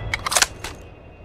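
Weapon reload in the mobile shooter Apex Legends Mobile: a quick run of sharp mechanical clicks and clacks over about half a second, then one final click, close and clear with no talk.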